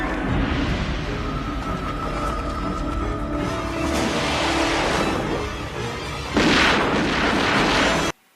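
Gunfight from a Batman film scene, with booming artillery-like blasts and bursts over a dense, loud orchestral-style backdrop, building to a sharper crack of fire near the end before cutting off abruptly.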